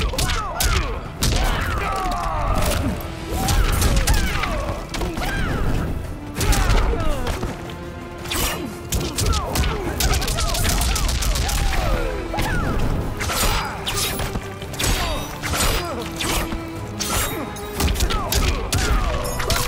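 Mortal Kombat 11 fight with dense, continuous punches, thuds and crashing impacts over game music and effects, loud throughout.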